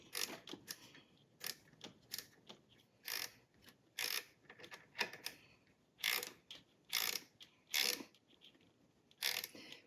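A ratcheting wrench clicks as it turns bolts on a Harley Davidson Sportster during a battery upgrade, bursts of quick pawl clicks in short, repeated strokes, close and fairly quiet.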